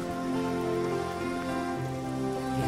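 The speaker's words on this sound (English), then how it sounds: "It would be nice to not have to walk in the rain all night." Steady rain falls in the video game Oblivion, a dense continuous hiss of drops on surfaces that stays even throughout, layered with soft sustained ambient game music.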